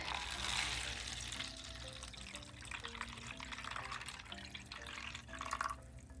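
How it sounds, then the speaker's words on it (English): Water poured into a bowl used as a scrying surface, a continuous splashing, trickling stream up close with soft drips over a faint steady tone. "And then you pour your water inside."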